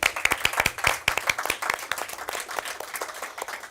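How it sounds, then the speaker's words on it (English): A small audience at an online-style awards ceremony gives a round of applause for the judges, with distinct individual claps in an uneven rhythm, moderately close, thinning out toward the end. "Let's please give a round of applause to our judges again"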